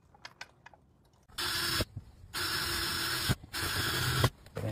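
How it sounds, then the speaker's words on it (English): A Dremel rotary tool cuts into an RV panel in three loud, high-pitched whining bursts, each a second or so long, separated by short pauses with light handling clicks. "I can just cut a little box in here, maybe, if the Dremel will reach in there."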